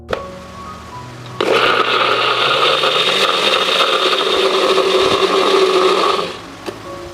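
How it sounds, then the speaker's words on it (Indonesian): A blender grinding spices whirs on abruptly and grinds at a steady, high-pitched whine for about five seconds before cutting off. "Bumbunya akan kita blender sampai benar-benar halus ya."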